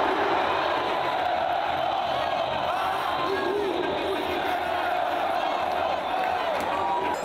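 Sport Recife supporters roar and cheer in a dense, continuous wall of crowd noise filling the Castelão stadium as their side closes in on the Copa do Nordeste title, loud and steady throughout.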